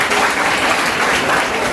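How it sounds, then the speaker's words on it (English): Audience at a health information management talk on the medical laboratory department claps in a steady, dense burst of applause filling the hall throughout. "A round of applause for them."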